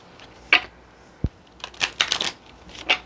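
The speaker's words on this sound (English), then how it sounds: "I am shuffling this Love Oracle deck for our Sagittarius collective" An oracle card deck is shuffled by hand: several quick papery riffles and flicks close to the microphone, separated by short pauses in a quiet room.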